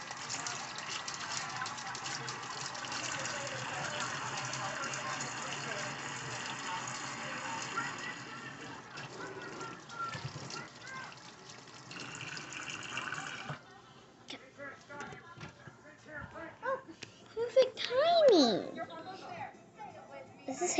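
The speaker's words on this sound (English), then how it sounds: "Washing my hands." Hands are washed under a running tap, the water making a steady rushing stream for most of the clip before it breaks into uneven splashes and trickles, with people talking nearby.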